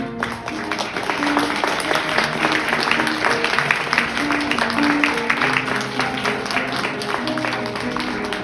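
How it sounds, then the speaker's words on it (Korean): Wedding guests applaud the couple after the ring exchange, a steady, dense round of clapping from a crowd lasting throughout, with voices and music faintly underneath. "여러분 마찬가지로 두 사람에게 큰 박수를 부탁드리겠습니다"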